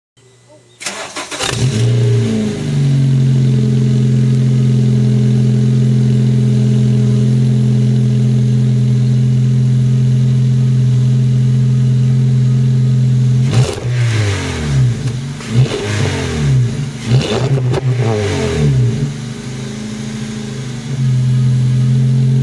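A Honda Step WGN Spada RK5 engine cranks and catches, settling into a loud, steady idle with a warning beep mentioned, then gets several sharp revs before returning to idle, with someone talking over it.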